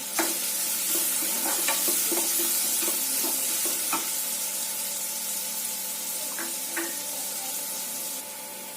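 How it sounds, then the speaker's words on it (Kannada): Sliced onion and a bay leaf frying in a hot pan, a steady soft sizzle with scattered clicks of stirring against the pan, fairly close and without talk. "ಆಮೇಲೆ ಇದಕ್ಕೇನೆ ಆನಿಯನ್ ಒಂದು ಹಾಕ್ತಾ ಇದ್ದೀನಿ"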